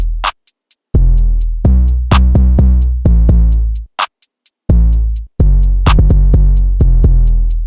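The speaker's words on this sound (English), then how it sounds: "the 808s go sometimes over the clap" Hip-hop beat built in FL Studio, with bouncy, sliding 808 bass notes that sometimes land over a sharp clap, repeating hi-hats on top, brief gaps where the bass drops out, loud and upfront with no talking.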